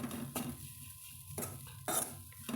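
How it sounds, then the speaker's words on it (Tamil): Grated coconut and spices dry-roasting in a pan are stirred with a utensil, giving a few quiet scraping strokes and faint rustling, close and soft without speech. "நல்லா அந்த கலர் சேஞ்ச் ஆகாமல் கருகாமல் நம்ம நல்லா மணம் வர அளவுக்கு வறுத்தெடுத்தால் போதுங்க."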